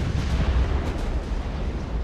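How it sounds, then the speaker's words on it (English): Continuous rolling rumble of naval gunfire in the warship game Ultimate Admiral: Dreadnoughts, dense overlapping booms blending into a loud, steady roar with no talk. "it is a hail of gunfire"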